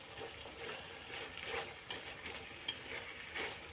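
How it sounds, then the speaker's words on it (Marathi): Ingredients for vegetable pulao frying in oil, giving a soft, continuous sizzle with faint stirring scrapes and a couple of sharp utensil clicks, with no talk. "आपले सर्व इन्ग्रेडियंट जे आहेत बघा तेलामध्ये चांगले असे मस्त असे शिजलेत"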